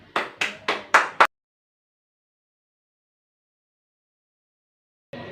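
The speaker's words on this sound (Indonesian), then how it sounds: "Sekarang berikan tepuk tangan untuk kelompok 1, 2, dan juga 3" Four or five sharp hand claps from students in a classroom ring out in quick succession, then silence, before a short burst of claps returns at the end.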